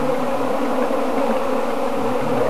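A dense, steady buzzing of African honeybees, close and continuous, with no talk over it.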